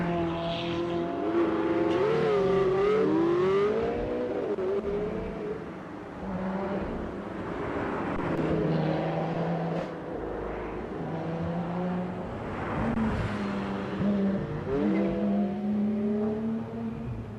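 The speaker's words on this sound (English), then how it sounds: "Yet another Ferrari on the grid." Race cars, including a Ferrari and a Mercedes C63, on a track in Wairoa, engines revving and droning with rising and falling pitch as cars pass by, continuous and moderately loud.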